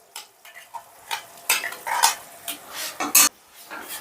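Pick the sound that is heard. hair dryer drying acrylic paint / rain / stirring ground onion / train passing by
stirring ground onion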